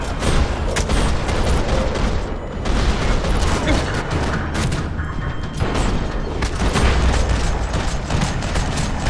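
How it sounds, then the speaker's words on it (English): Rapid bursts of gunfire in the video game Max Payne 3 crackle continuously in a parking lot, dense volleys and booms overlapping in a loud, chaotic firefight with no pauses. "Another parking lot rattling with gunfire."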